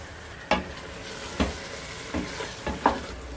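Green chillies and fried onion are stirred into a sizzling masala for beef nalli biryani, with four spaced scraping strokes of a spoon over a constant low frying hiss.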